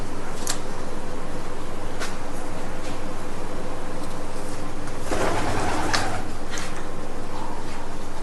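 Kala pitho pigeons coo in a low, steady murmur under a constant hiss of background noise, with a few sharp clicks and a brief louder burst partway through.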